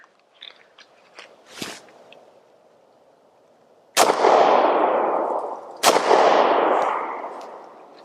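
Two sharp, loud gunshots from a Lone Wolf Arms TimberWolf 19 pistol about two seconds apart, each with a long reverberant decay. The pistol is suffering failures to eject.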